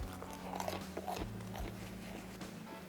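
A few crisp crunchy bites into a burnt, air-fried toasted bagel, close and fairly quiet.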